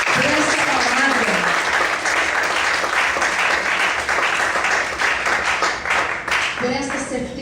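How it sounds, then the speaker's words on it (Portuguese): A church congregation applauds steadily for several seconds during a Portuguese-language sermon. The dense, even clapping fills the room, and a voice is briefly heard over it at the start and again near the end. "Você pode aplaudir ao Senhor por essa palavra."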